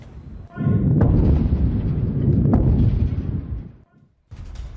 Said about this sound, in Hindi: मुबारक के स्टील प्लांट पर कई मिसाइलें दागी गई हैं।